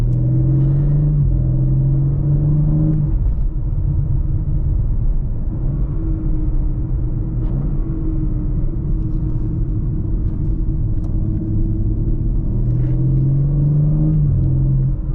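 A BMW M car takes a tight corner at about 30, its engine giving a steady, close rumbling drone that rises in pitch briefly near the start and again near the end.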